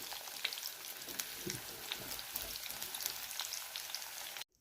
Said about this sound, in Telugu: అదే నూనెలోని చూడండి ఉల్లిపాయలు, దుంపలు వేసుకొని వేయించుకోవాలి.